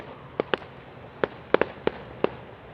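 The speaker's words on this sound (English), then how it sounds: "who the fuck is shooting off fireworks?" Fireworks go off outdoors at a distance, about seven sharp pops spread unevenly over a few seconds and ringing against a steady background hiss.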